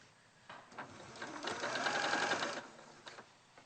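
A sewing machine stitches seams in a fairly quiet, close run, its rapid needle chatter speeding up toward the middle before easing off, with a few light knocks and no voices.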